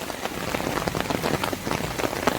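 Rain pours steadily onto a surface outside a Kerala home, a dense, continuous hiss with closely spaced drop impacts at an even loudness, and no talking.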